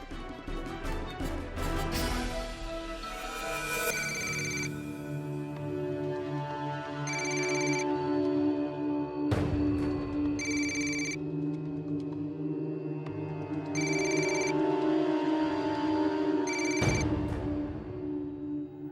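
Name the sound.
telephone ringing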